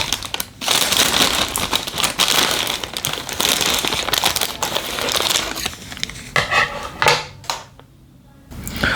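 Plastic packaging of a Betty Crocker Devil's Food chocolate cake mix crinkles and rustles up close as it is cut open, a busy run of crackling handling noise that tapers off near the end.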